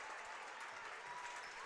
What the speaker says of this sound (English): the applause is felt from the UChicago fans who have traveled here to New York City in abundance